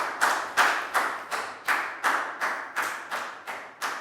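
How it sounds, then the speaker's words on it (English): A classroom of students claps for a classmate in a slow, even rhythm, about ten sharp claps spaced evenly, crisp and fairly close, with no voices over them. "Big round of applause for Lakau."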